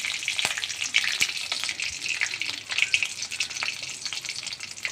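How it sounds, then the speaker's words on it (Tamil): Curry leaves sautéing in hot oil after mustard seeds, a steady bright sizzle with occasional sharp crackles and pops, close and continuous with no talking. "கருவேப்பிலை நல்லா வதங்கட்டும்."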